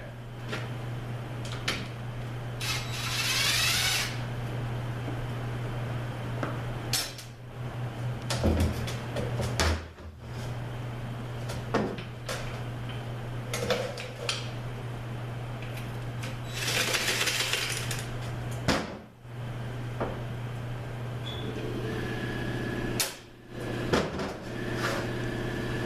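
Someone digs through tools and drawers in a workshop during a 5R55E transmission teardown, looking for a socket. Scattered metallic clinks, rattles and drawer slides come over a constant low electrical hum, close by and without talk.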